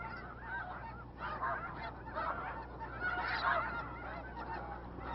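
A flock of migrating geese honks continuously at a wildlife refuge resting and feeding stop, many overlapping calls rising and falling at a moderate distance with no talk.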